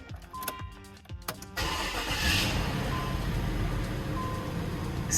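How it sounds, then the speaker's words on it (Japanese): A Nissan President luxury sedan starts up: a few sharp key and ignition clicks are followed by a brief crank. The engine then catches and settles into a smooth, steady idle close by. "スムーズなエンジンだね。"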